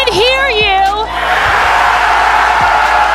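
Loud, sustained roar from a packed arena crowd at an esports Major quarterfinal in Atlanta, Spacestation Gaming versus FaZe Clan, opening with a long rising whoop or yell before settling into a dense wall of cheering.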